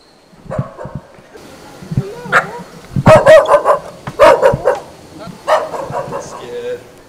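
A dog barks repeatedly in short bursts, fairly close, with some yips and whimpers between barks and brief human talk.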